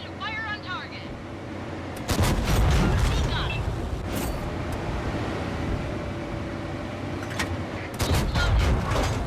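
Nashorn tank destroyer's gun firing in a tank video game: two heavy booming shots, one around two seconds in and another near eight seconds, each with a loud broadband blast over steady engine rumble and faint game chatter.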